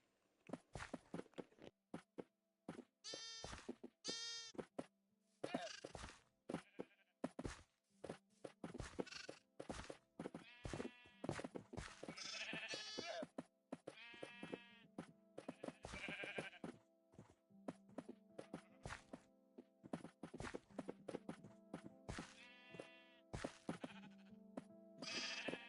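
Baby sheep in Minecraft bleat repeatedly, high wavering cries in bursts with short gaps, mixed with footstep sounds and a low steady game tone, close and prominent across the whole stretch.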